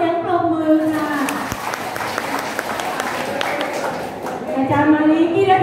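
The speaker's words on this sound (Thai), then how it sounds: "ขอเสียงปรบมือค่ะ" An audience claps through a community health talk for members in Mueang Nonthaburi, Thailand: a steady, even wash of applause that swells again near the end, with voices speaking over it.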